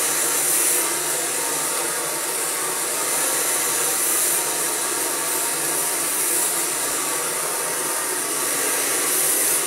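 A hair dryer roars steadily while blow-drying hair for a smooth, frizz-free blowout, a loud, close, unbroken airy whoosh with slight wavering and no voices.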